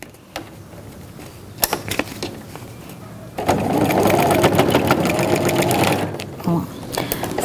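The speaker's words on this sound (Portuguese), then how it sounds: "vou pra máquina fazer uma costura" A sewing machine stitches a seam on a cosmetic-bag organizer made with crystal plastic, a quick close whirring burst of about three seconds after a few light handling taps and some talk.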